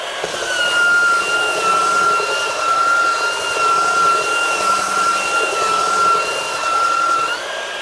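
A Kobalt 24V brushless belt sander running on a 4 amp-hour battery gives a steady, loud, continuous whine with a constant high tone and no pauses.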